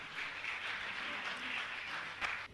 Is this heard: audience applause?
yes